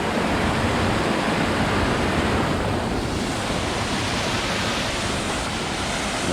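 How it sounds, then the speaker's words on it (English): A nice-sized creek running heavier than normal after a morning of steady rain, a dense, continuous rushing roar of water close by that holds steady with no talking. "it's a pretty nice sized creek. It's running a little bit heavier than normal."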